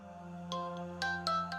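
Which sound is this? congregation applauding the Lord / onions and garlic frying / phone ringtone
phone ringtone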